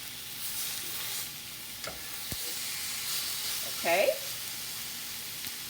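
Filet mignon sears in a hot pan with a steady soft sizzle and a brief surge of hiss near the end, while a voice speaks a word.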